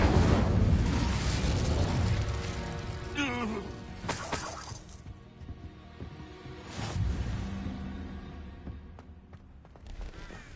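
Incendio fire spell cast in the Hogwarts Legacy video game: a loud burst and crashing whoosh that fades, followed by further rumbling impacts and crackling debris.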